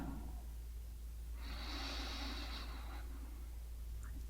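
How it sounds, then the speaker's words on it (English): A single slow, deep breath drawn in through the nose, a soft airy inhale lasting about a second and a half, quiet and close over faint background hum. "Let's take a slow, deep breath in."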